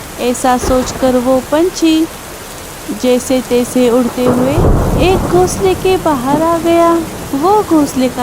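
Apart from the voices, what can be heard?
rain and thunder in a cartoon storm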